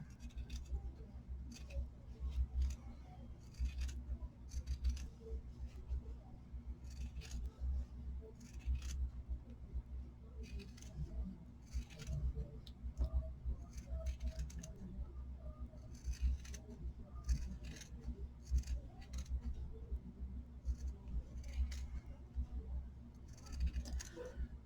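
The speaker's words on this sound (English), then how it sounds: "So now we're gonna clip the seam." Scissors make a steady run of small, crisp snips while clipping the fabric seam allowance of a handmade hat. The snips are quiet and close, over a constant low hum.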